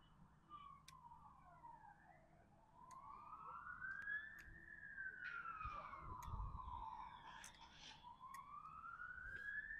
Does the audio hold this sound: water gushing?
no